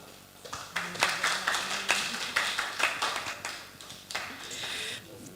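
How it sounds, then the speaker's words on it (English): A few people clapping at an online English teaching webinar, a short patter of close, uneven claps that rises and fades over several seconds, with a voice speaking over them. "Please give applause"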